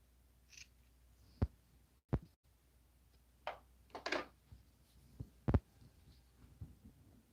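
Worn, dull scissors snipping while packing craft orders, a few separate sharp cuts spread unevenly across a quiet room, close and fairly loud against a low hum, with no talking.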